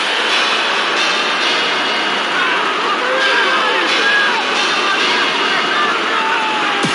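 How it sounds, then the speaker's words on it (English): A stadium crowd cheering after a goal in the video game FIFA 2002 during a Sweden match, a dense, sustained roar of massed voices holding at a loud, even level throughout. "The home crowd can't get enough of this."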